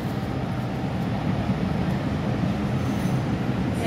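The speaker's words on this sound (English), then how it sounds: "The train to Polan is arriving." An MTR M-Train on the Tseung Kwan O Line pulls into Platform 3 at Tiu Keng Leng station, a steady loud rumble of wheels and carriages that builds slightly as it arrives, with no talk.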